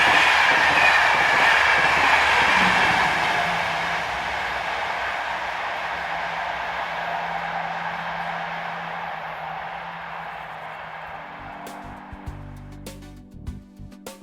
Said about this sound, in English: this shot of number 7243 on the back of the 1316 from Lyon to Paris